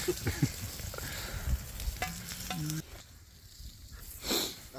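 Bacon sizzling as it fries outdoors during a winter bog hike, a dense crackling hiss with occasional pops, fairly close, dropping quieter partway through.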